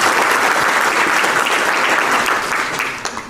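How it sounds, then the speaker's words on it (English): An audience at a provincial education engagement event breaks into a round of applause, dense and loud at first, then thinning and tapering toward the end. "I will also request that you give a big round of applause for"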